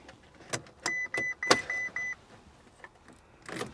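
Car at an auction yard that will not start: a series of electronic chimes and beeps with clicks and thumps from the ignition attempt, close and fairly loud, but no engine catching or running.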